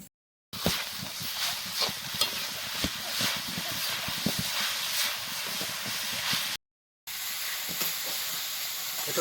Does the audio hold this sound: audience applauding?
no